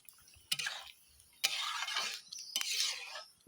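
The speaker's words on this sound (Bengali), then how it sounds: "তরকারিটা নাড়াচাড়া করে নিলাম।" A shukto curry with prawns being stirred in a pan, three separate bursts of wet scraping and sloshing with short quiet gaps between them, soft and close.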